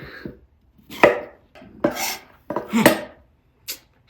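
Vegetables being chopped with a knife on a board, a few separate loud chops and scrapes spaced irregularly, close by with no talking.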